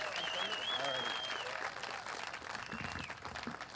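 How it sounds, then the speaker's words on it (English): Crowd applause at a 2013 Tea Party rally in Glen Allen, Virginia: faint, distant clapping and cheering mixed with voices, continuing steadily throughout. "I think that's worth applause right there."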